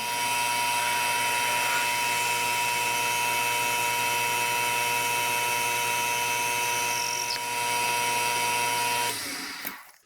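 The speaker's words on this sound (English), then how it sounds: "this drill bit, this one cut through the aluminum just fine" A drill bit bores into an aluminum mid-pipe on a machine, giving a loud, steady whine with strong tonal harmonics that holds for about nine seconds before winding down abruptly at the end.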